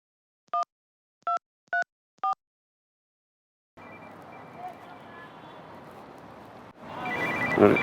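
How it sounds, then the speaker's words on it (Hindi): Four short electronic telephone rings in a steady rhythm, then a stretch of background noise that swells louder at the end. "शंकर का फोन।"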